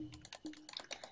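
Rapid clicking and tapping from picking up keys in a horror video game, a quick burst of light, close, evenly spaced clicks lasting about a second.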